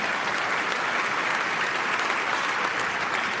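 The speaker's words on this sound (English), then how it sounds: "you can give applause" Audience applause during a speech at an event honoring basketball player Swin Cash: a loud, uniform wash of clapping from a large crowd, steady and continuous throughout.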